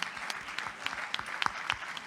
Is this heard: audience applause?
yes